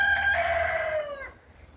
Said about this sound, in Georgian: ისე იგი მამალმა სიტყვა არ ჩამაგდებინა ყველა სიტყვაზე ყივის და ყივის